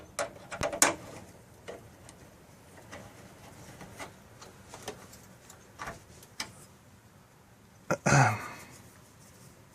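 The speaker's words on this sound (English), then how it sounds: "once they're tightened by hand, then I'll just use the wrench on them" Wrench tightening bolts on a Mercedes trunk lock actuator during a DIY latch repair: scattered faint ratcheting clicks and ticks, close by, with a louder brief clatter near the end and no talk.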